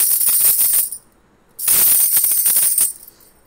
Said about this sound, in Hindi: तो चूड़ियों की आवाज़ लो।